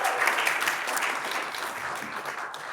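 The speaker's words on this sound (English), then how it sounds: "She gets a clap." Audience applause for a panelist at a women in transport technology panel, a brisk burst of many hands clapping in a room, strongest at the start and gradually easing off.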